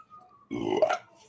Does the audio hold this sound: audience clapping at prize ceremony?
no